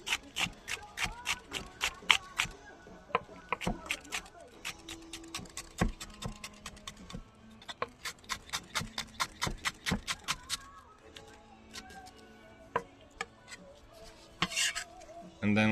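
A knife finely julienning a large shallot on a cutting board, a fast run of sharp, close knife taps in rhythmic bursts with short pauses.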